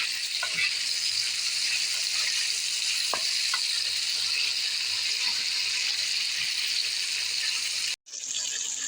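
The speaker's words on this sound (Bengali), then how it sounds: "একটু নেড়ে ছেড়ে আলুগুলোকে ভেজে নেব।" Potatoes fry in hot oil in a pan for a sajne data and fish curry, giving a steady close sizzle with a few soft scrapes from stirring, then a brief drop to silence near the end.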